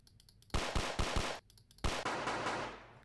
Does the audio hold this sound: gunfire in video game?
yes